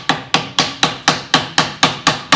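A hammer tapping around a sharp edge to cut out a paper gasket, eight crisp evenly spaced knocks at a steady rhythm, close and clear with no talk.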